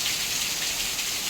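Steady rain falling outdoors, a dense even hiss of drops on surfaces, continuous and fairly loud, with no talking.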